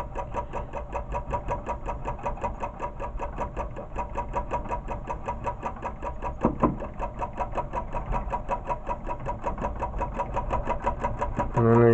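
A small engine runs with a steady rapid mechanical chatter and low rumble, close and moderately loud, the pace holding even with a slight swell toward the end.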